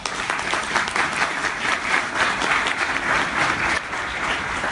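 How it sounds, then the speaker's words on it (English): A college audience gives loud, sustained applause for the campus president at a downtown event, thick continuous clapping that stays even throughout with only a slight dip near the end. "Let's give her a round of applause"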